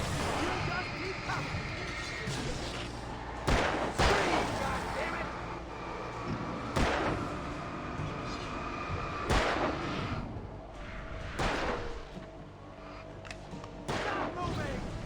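Gunfire in the video game Alan Wake: several sharp, loud shots at irregular intervals cut through a dense, noisy game soundscape, with people talking over it.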